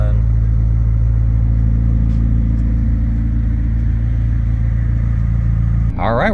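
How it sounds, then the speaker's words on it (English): A 2019 McLaren 600LT sports car idles with a steady, loud engine drone and deep low rumble as it sets off on a test drive, with a brief sharp change right at the end. "All right, we're going for a quick test drive."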